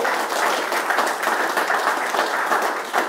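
An audience at a Les Républicains public meeting in Rueil-Malmaison claps in a loud, continuous wash of applause that holds steady for about three seconds.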